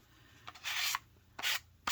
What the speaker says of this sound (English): this kind of vigorous sanding